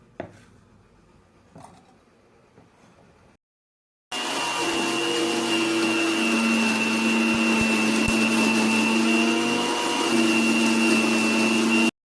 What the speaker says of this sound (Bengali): তো চলো সবার প্রথমে মিক্সিতে আমরা এগুলো সব বেটে নেব।